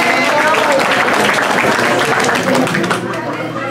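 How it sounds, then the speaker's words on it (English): A live audience at an evening event in Clearwater breaks into steady, loud applause that holds throughout and fades slightly at the end, with voices mixed in. "George and Joanna, just come out here and take a round of applause"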